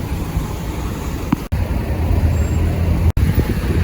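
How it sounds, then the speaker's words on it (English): Steady rush hour road traffic near Paynes Bay, Barbados: cars, buses and trucks rumble past continuously at close range, with a brief air brake hiss and no talking. "It's rush hour, people are going back home, that's why there's traffic."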